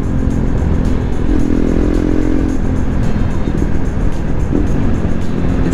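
KTM 390 Duke motorcycle engine revving loud and close under a twist of the throttle, a steady drone that swells briefly in pitch before settling back.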